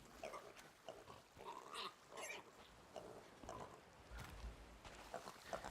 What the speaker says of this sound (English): We got a black pig and a pink pig we gotta pick up.